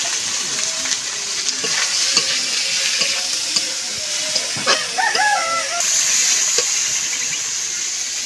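Potatoes and tomatoes dropped into a frying pan over fried onion and green chilli for a fish-head chochchori, with close sizzling and stirring scrapes, soft clatter, and a rooster crowing faintly in the background.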